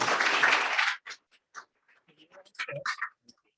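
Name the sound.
audience applause for candidates at a lunch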